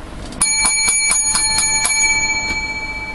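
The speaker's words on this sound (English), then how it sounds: "I do seven bells because seven is a very lucky number." A bright bell rings seven times in a quick, even series, each clear metallic strike close and loud, the last ones decaying.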